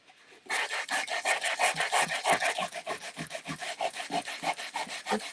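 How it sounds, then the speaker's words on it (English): Wood is rubbed with sandpaper for a patriotic craft, making steady rhythmic back-and-forth scratching strokes, close and fairly loud, continuous for several seconds. "I need to get some more sandpaper."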